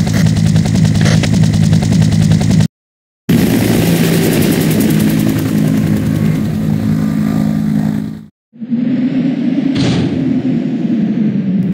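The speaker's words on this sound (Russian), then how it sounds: "Николай приглашает нас на вертолет" A helicopter hovers directly overhead in the PS1 game Resident Evil 3 (Biohazard 3: Last Escape), a loud, steady droning rotor with a low hum. It cuts out briefly twice, then returns with a brighter whine.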